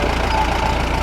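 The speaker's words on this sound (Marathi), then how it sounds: "ट्रॅक्टर आलाय." Tractor engine idling nearby, giving a loud, steady low rumble with an even mechanical throb throughout.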